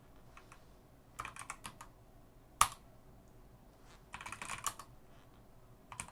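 Computer keyboard clattering as a shell command is typed, quiet bursts of rapid keystrokes separated by pauses, with one sharper single key press in the middle.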